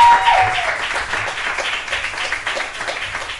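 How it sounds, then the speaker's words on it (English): Audience applauding a poetry performer at a live event at the Five Spot, dense loud clapping that starts strong and slowly tapers while staying steady throughout, with no voices over it. "Let me get a round of applause for My Life in Yellow."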